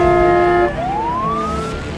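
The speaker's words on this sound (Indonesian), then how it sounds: "ini mobil pemadam" A fire truck siren in GTA 5 wails loud and steady, holding one tone and then sweeping upward in pitch, with no talking over it.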